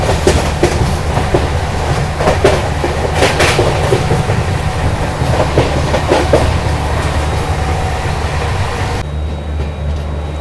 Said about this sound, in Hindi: अभी देखो वापस से अपनी ट्रेन ने लगभग 130 की स्पीड मेंटेन कर ली है।